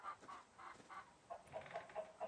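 A chicken in the horror farming game Dread Fields clucks repeatedly, a series of short, quiet, evenly spaced clucks with no voices over them.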